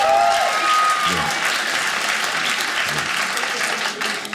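Comedy club audience clapping steadily throughout, a dense, sustained round of applause with faint voices and a brief whistle near the start.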